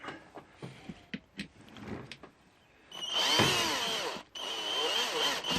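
A power drill whirs in a garden allotment while unscrewing a screw during the building of a brassica cage, running in a loud sustained burst after scattered handling clicks and knocks.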